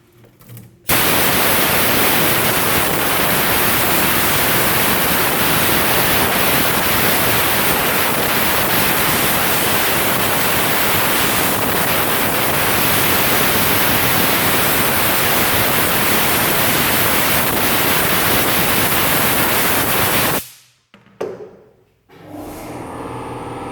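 An air compressor blows a steady, loud rush of air over a bike chain to clear off cleaning fluid, running unbroken for about twenty seconds before cutting off.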